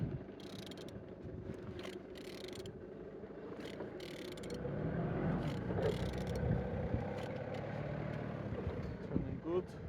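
A Z16XER car engine idles at a low, steady mechanical rumble with faint clicking and ticking, quiet and close, while a person talks over it.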